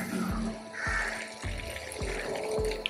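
Water is drained off boiled rice for a Hyderabadi dum biryani, a steady splashing pour with soft, regularly spaced low thuds, fairly quiet and with no one talking.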